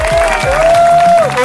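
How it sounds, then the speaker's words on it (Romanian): A crowd applauds at a downhill mountain-bike race awards ceremony while a loud, drawn-out voice rings over the clapping, all close and strong. "Aplauze pentru Mad Max!"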